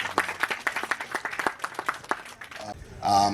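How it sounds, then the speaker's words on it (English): A short burst of scattered clapping from a small group at a community bench restoration event in Chesterfield, New Jersey, uneven and fading out, ending with a voice. "So please give your families a round of applause."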